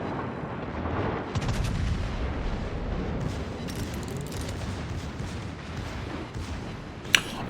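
Secondary battery guns on the battleship Hannover fire in rapid, overlapping booms during a World of Warships naval battle, forming a dense rumbling barrage with one sharp, louder report near the end.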